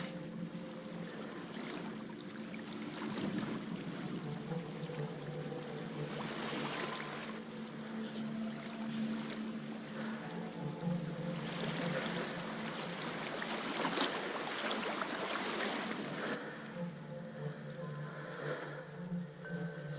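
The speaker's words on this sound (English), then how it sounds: "There's a waterfall." A waterfall in Hellblade: Senua's Sacrifice gives a steady, rushing roar of falling water that swells and recedes slightly over about twenty seconds, with no voices.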